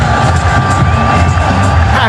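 Stadium crowd at a Pakistan A versus Bangladesh A Emerging Asia Cup final roaring loudly after a cricket boundary, a dense sustained cheer with shouts and whoops throughout.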